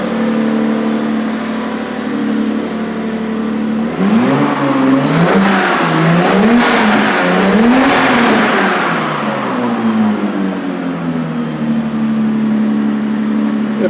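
A Lexus RX300 turbo engine with a new custom exhaust, still cold, idles steadily, then revs up and down several times in a loud close burst before settling back to idle.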